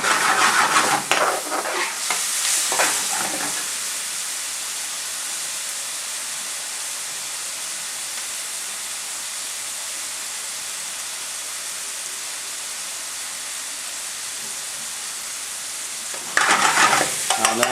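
Garlic and ginger fry for lamb karahi with a loud, continuous hissing sizzle, with bursts of stirring and scraping at the start and again near the end.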